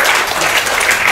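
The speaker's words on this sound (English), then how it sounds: "I think we should give a round of applause for everybody." Dense, steady applause from a congress audience of the NRI Welfare Society of India in Bangkok fills the moment at an even, loud level with no break.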